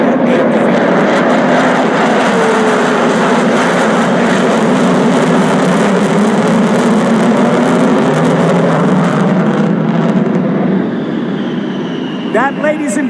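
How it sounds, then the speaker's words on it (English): A B-1 Lancer bomber flying over an outdoor ceremony at the White House, a loud, sustained jet roar that swells and slowly fades, with crowd noise and voices underneath. "The B-1 Lancer, or the Bone as it is known, look at this"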